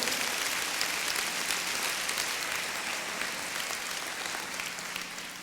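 A church congregation applauds during a Spanish-language sermon, a broad, sustained clapping wash that holds steady and tapers slightly toward the end, with no one speaking.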